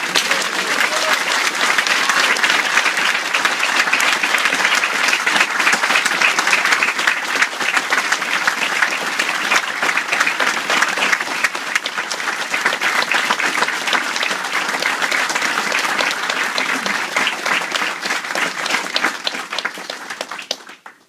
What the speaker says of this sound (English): Please give them a nice hand clap.